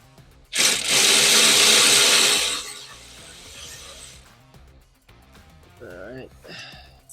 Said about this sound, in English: you got the 16 on the electric ratchet and an 18mm box wrench